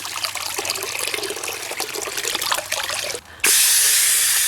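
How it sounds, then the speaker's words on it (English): Clean water running over a Honda portable generator's air filter element as it is rinsed, a steady splashing trickle close up that briefly drops off, then returns as a louder, smooth hissing stream. "go ahead and rinse the element out with some clean water"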